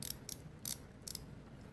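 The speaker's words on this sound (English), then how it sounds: "It's ratcheting, right?" A ratcheting nut driver with 1/4 inch and 5/16 inch sockets gives four crisp, bright clicks in an uneven rhythm, close and fairly quiet, with no talk.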